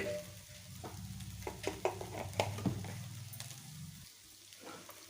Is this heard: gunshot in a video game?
no